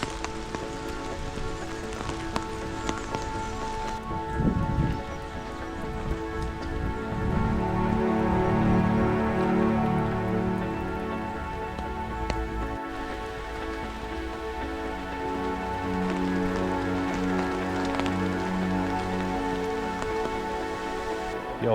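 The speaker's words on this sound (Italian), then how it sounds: "Oggi servono e alla grande, sta piovendo parecchio." Heavy rain pours steadily onto surfaces in Bremen, a dense continuous patter with drops hitting nearby, loud and unbroken throughout with no voices.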